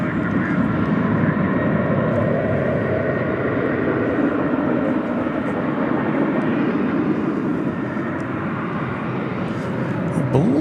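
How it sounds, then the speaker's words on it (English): A jet airliner arriving at Dallas Fort Worth airport at night on a flight from Orlando gives a steady, loud broadband engine roar that holds evenly throughout, with speech faintly present. "I believe this flight's coming in from Orlando."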